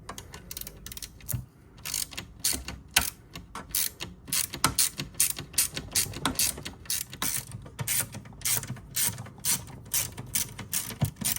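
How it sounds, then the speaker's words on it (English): Ratcheting wrench loosening the four bolts on a saw carriage, a rapid run of clicking ratchet strokes in bursts, close and fairly loud, with no talk. "loosen those 4 bolts"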